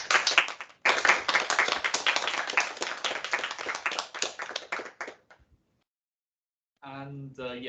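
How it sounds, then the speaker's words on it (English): An audience gives a round of applause for a speaker at the end of a science talk, dense clapping for about five seconds that stops abruptly, followed by silence and then a voice speaking. "I suggest we give Janelle a nice big round of applause at this point."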